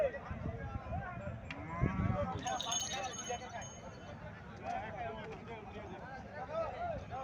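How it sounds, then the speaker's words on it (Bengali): A Holstein Friesian cow and her bull calf stand at a busy cattle market, with low lowing mixed into a crowd of voices talking nearby. "এখানে আরো একটা হোলিস্টাইন ফ্রিজিয়ান জাতের গাভী দেখা যাচ্ছে। বাছুরটা ষাঁড় বাছুর।"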